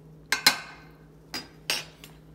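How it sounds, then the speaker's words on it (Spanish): Mushrooms and garlic are stirred together in a pan, heard as four or five sharp metallic clinks and scrapes of a utensil against the pan, spaced irregularly and fairly close, with no voices. "En esta primera parte vamos a revolver todo."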